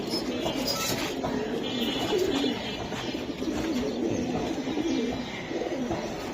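Silver Giribaz pigeons coo in a steady, layered murmur close by, with the soft throaty calls overlapping continuously and faint background voices underneath.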